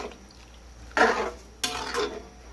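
A spoon scrapes and clanks against a pot of mung bean soup with bitter melon in two short bursts of stirring, close by, with quiet gaps between.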